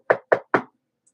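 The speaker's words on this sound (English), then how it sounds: "If I do a knock like this." Three sharp knocks on a hard surface, evenly spaced and close, followed by silence with no talking.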